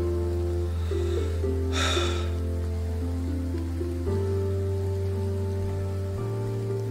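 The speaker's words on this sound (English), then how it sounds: "Oh! The rain stopped." Rain falls in the farming-and-graveyard video game Graveyard Keeper, a steady soft patter layered under tonal in-game music, with one brief louder rush of noise partway through and no voices.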